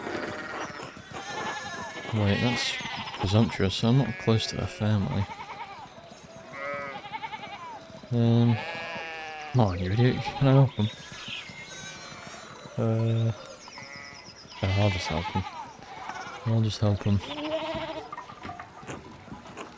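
Medieval sheep in the game Pentiment bleat repeatedly in short wavering calls scattered across the scene, rising over light background sounds while someone talks between them.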